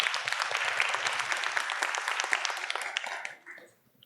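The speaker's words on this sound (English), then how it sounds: "So I'd really like to give them a round of applause." A crowd applauds a panel event on fighting gentrification: dense, steady clapping close and full for about three seconds, then tapering quickly into near silence.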